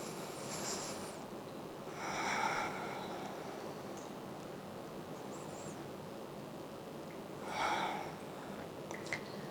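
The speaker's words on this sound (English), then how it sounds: "2 deep breaths." Two slow, deep breaths during a yoga flow, airy and soft, heard close up as long breathy swells over a low hiss with no talk.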